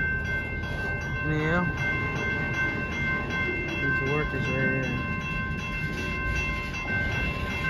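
A CSX freight train rolls slowly past with a steady rumbling, a squealing tone and a few whistle-like sweeps, while a person speaks briefly over the noise.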